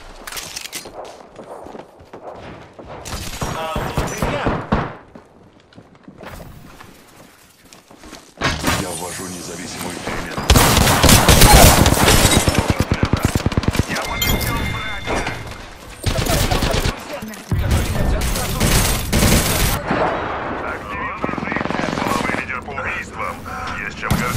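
Gunfire in a video game arrives in dense bursts and rapid fusillades with mechanical clatter and shattering hits, loud and close, while a voice talks over the action.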